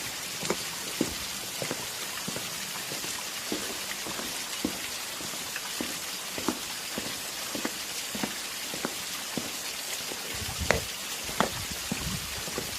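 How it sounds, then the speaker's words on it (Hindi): Heavy rain effect for a Hindi jungle cartoon, a steady wash of falling rain with distinct drop taps recurring at a roughly even rhythm, loud and alone with no voices. "बारिश बहुत तेज है।"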